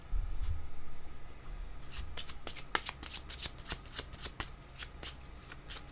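A deck of cards is shuffled close by, starting with a soft rustle and then breaking into a quick run of sharp riffling snaps and flutters over several seconds in an otherwise quiet room.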